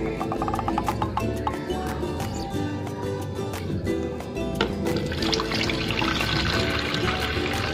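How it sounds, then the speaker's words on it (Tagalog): Water poured into a container set up for hatching baby brine shrimp without an air pump, a continuous splashing, trickling stream that runs throughout at moderate loudness. "unang lagay ka ng tubig."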